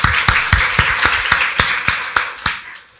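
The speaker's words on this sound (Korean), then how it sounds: "박수로 하나님께 영광 돌리겠습니다." A church congregation at a Sunday worship service claps in a steady rhythm of sharp, evenly spaced hand claps, fairly close and loud, slowing and fading out at the end.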